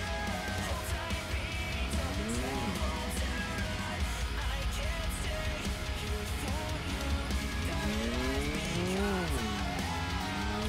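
In a BeamNG drag race video game, a car with an engine swapped in from a Niva launches off the line. Its engine drones and revs continuously, rising and falling in pitch, with tire squeal mixed in throughout.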